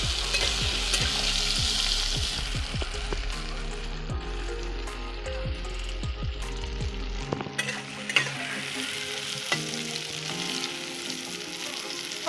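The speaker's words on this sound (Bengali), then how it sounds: "সয়াবিনটাকে আমি ভেজে নেব।" Soybean chunks fry in a pan with a continuous sizzle, punctuated by repeated sharp scraping and stirring clicks. The pan sound then thins to a quieter hiss broken by occasional taps.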